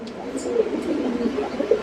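White-faced pigeons kept in loft cages give repeated low, murmuring coos, moderately close, with a couple of faint higher chirps above the steady burble.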